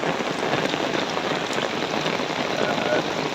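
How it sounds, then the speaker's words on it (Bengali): Heavy rain pours steadily onto an umbrella and the ground beside a fishing spot, a loud, dense, continuous hiss with no break throughout. "বৃষ্টি হইতেছে, অনেক জোরে বৃষ্টি হইতেছে"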